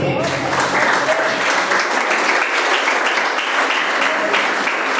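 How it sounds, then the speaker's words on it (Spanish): A church congregation applauds steadily at a Spanish-language sermon, a dense, even wash of clapping that carries on throughout. "Denle un aplauso al Señor."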